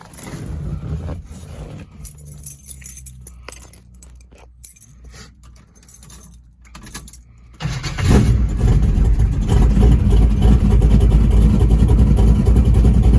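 A cold carbureted car fitted with an Edelbrock 650 carb cranks and catches at about eight seconds, then holds a loud, steady, close engine roar. Faint jingling and handling noises come before the start.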